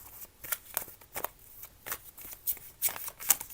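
Handmade blank playing cards being shuffled, a run of close riffling flicks and soft snaps at an uneven rhythm, quiet, with no talking.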